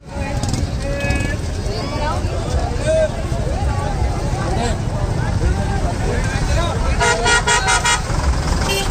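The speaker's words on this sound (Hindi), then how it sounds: "ये देखिए काफ़ी ट्रैफिक भी है यहाँ पर" Busy market street in Haldwani with dense traffic: engines rumble, several short car and scooter horn toots ring out, and people talk loudly throughout.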